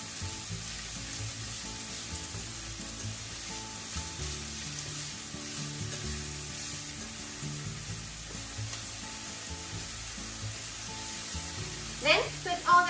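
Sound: stir frying green bell pepper and chikuwa fish cake in sesame oil

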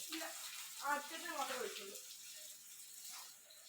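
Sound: water poured from a hose onto plants

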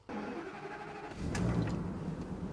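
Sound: RV coach engine starting

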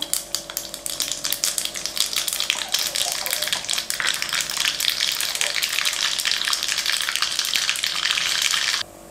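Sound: mustard seeds sizzling in hot oil

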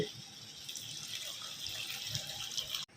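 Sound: pouring hot water into boiled mung dal

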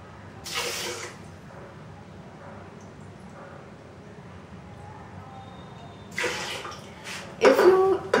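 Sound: water poured into bowl

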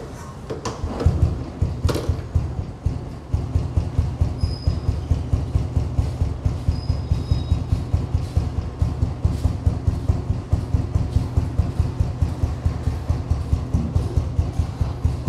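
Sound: Royal Enfield Standard 350 motorcycle engine idling

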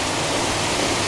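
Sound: waterfall beside a bridge in Alston, England

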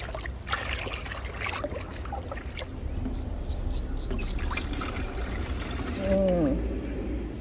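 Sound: pouring liquid fertilizer solution onto soil in a pot

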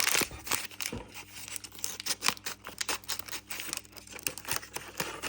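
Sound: plastic packet being torn open

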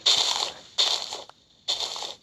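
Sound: digging blocks in Minecraft, video game

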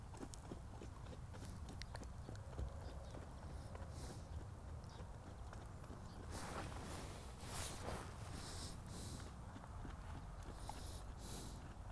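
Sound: horse hooves while ridden

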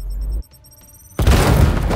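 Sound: grenade explosion in Warhammer 40k Chaos Gate Daemonhunters video game

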